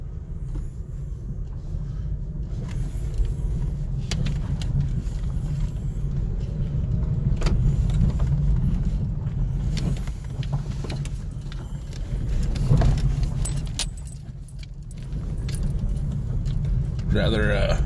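A car drives over a bumpy, potholed back road, its engine and tyres making a steady low rumble with occasional jolts and rattles, while people talk inside the cabin.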